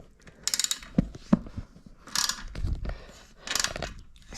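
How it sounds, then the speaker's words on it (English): Ratchet wrench loosening a 12mm bolt on a Honda Grom exhaust, heard as a few close, sharp mechanical clicks and brief ratcheting bursts spread across a quiet garage setting. "going to undo this one here, which is with a 12mm bolt. So get our ratchet on there and we'll start to undo that."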